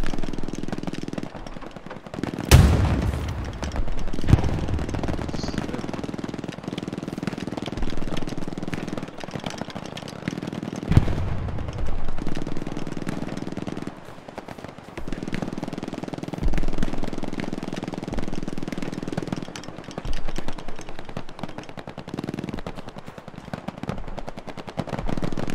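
Tank gunfire in the tank combat of the World War II shooter Hell Let Loose: a sharp, loud blast near the start, then steady rattling bursts of automatic fire over a low rumbling engine drone that runs throughout.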